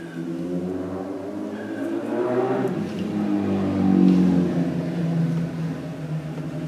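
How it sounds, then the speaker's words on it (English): A motorcycle engine drones from somewhere up a road on an evening, swelling and fading as it charges back and forth, steady and moderately distant. "likes to charge up and down the road on a motorcycle"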